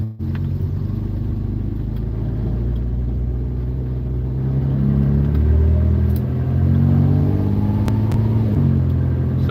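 A 1974 Volvo car accelerates on the road, its engine rumble climbing in pitch as it pulls through a gear, with a brief dip and another steady rise in the second half, heard from inside the car.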